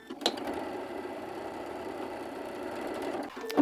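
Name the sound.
sewing machine stitching a fabric strip with quarter-inch seam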